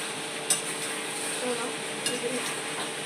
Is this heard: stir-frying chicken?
yes